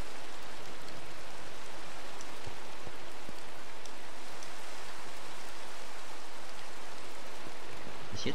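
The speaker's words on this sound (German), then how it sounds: "Es regnet, die Minecraft-Erde wird nass." Steady rain falls in Minecraft, a dense, even hiss of drops that lasts throughout with no voices.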